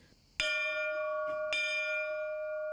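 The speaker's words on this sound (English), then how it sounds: "Pope Francis even donated the bell used in services" Two clear strikes of a church bell in a chapel, each followed by a long ringing, sustained tone, loud and alone in a quiet space.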